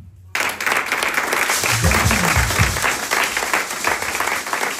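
A church congregation bursts into dense, continuous applause, loud and close and holding steady after a sudden start, with voices mixed in beneath.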